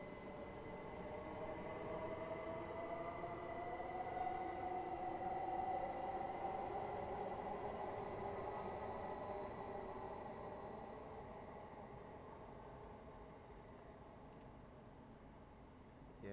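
A train runs in the video game Train Sim World 4, giving a steady rumbling rail drone with a sustained tonal hum that swells slightly and then eases, alone without talk.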